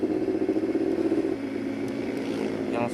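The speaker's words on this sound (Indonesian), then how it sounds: "Kebetulan gua baru dapat knalpot dari Shadux dan sekarang mau bikin video pure sound" Yamaha YZF R6 sport motorcycle fitted with a Shadux aftermarket exhaust, its engine droning steadily close by with a slight dip in level midway and no talk over it.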